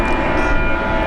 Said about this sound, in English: If anyone's wondering what that engine noise is, it's this guy here.